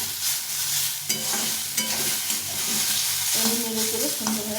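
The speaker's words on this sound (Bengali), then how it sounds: "জল জল থাকে না এই ছ্যাঁক করছে" Steady crackling sizzle of banana stem pieces frying in a hot pan, with stirring scrapes and a faint voice near the end.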